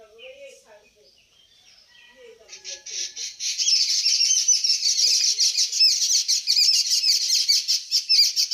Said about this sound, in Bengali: দেখছেন পাখিদের কেমন কিচিরমিচির শব্দ।